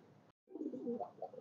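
Soft, low pigeon cooing, a short phrase, a brief silent gap, then a longer warbling coo close by.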